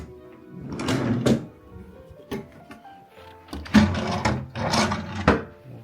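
A hotel room drawer slides open and shut in several rough wooden scrapes and thumps, close and fairly loud, separated by brief quiet gaps.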